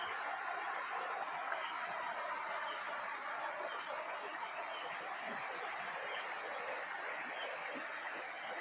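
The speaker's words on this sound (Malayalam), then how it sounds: "പുഴയുടെ നടുവിലാണ് ഇരിക്കുന്നത്" Continuous rushing of the flowing river at Malampuzha, heard from the middle of the river, steady and even throughout with no voices.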